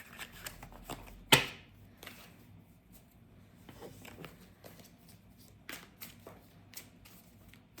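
Soft riffling of a deck of tarot cards being shuffled at close range, with one sharp snap near the start and light papery flicks afterward, no voices.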